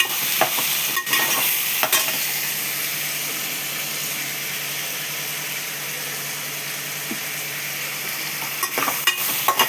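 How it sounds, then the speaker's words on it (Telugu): Tomato, green chili, onion, mustard seeds and cumin sizzle in hot oil as a spoon stirs and scrapes the pan, a steady close hiss broken by a few sharp clinks, with no talking. "టమాటా, పచ్చిమిర్చి, ఉల్లిపాయ, ఆవాలు, జీలకర్ర వేసాను అన్నమాట."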